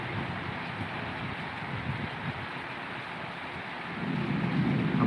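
Steady rain falls without wind, making a dense, even wash of hiss that holds through the whole stretch and swells slightly louder near the end.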